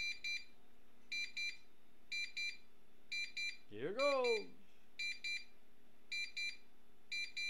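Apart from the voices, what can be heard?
security system motion detector alarm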